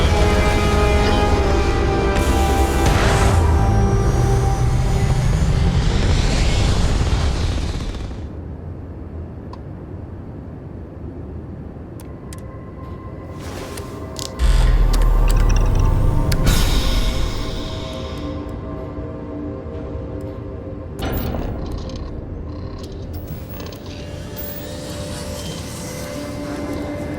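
A spaceship lifting off in Starfield, a loud roaring engine rumble that builds and holds, then drops away before a second surge of thrust and a fading, hissing tail with scattered clanks.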